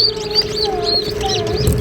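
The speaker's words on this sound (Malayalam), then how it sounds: "കോഴിക്കുഞ്ഞുങ്ങൾ" High, thin chirps repeat in quick bursts over a steady hum, with a faint lower whistle sliding in twice; newly hatched chicks peeping close by at an incubator.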